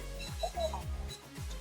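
A freestyle FPV drone on a Darwinfpv Jhonny 5-inch X frame sounds its buzzer: short high tonal beeps, close and moderately loud, over a steady low hum.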